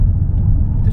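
A car drives through the streets of Tyumen, Russia, heard from inside as a steady, loud, low engine and road rumble with no break across a short stretch.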